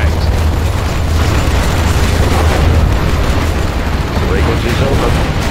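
Flashbang blasts in the real-time strategy game Command & Conquer Generals Zero Hour form a loud, continuous wash of booming explosions and rumbling low noise, dense and sustained throughout.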